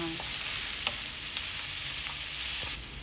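Garlic and onion sizzle steadily in hot oil, a constant crackling hiss with a few stirring scrapes.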